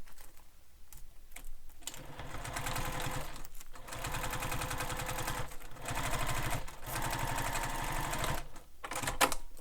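A sewing machine stitches along the edge of a beach bag in fast, rhythmic runs with brief pauses between them, close and clear, no voices.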